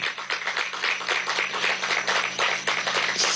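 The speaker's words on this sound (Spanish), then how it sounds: "Aplauso para Barrio Adentro" Audience applause at a Venezuelan government coronavirus briefing honoring the Barrio Adentro health program: steady, dense clapping that runs unbroken through the whole moment at moderate loudness, with no talk over it.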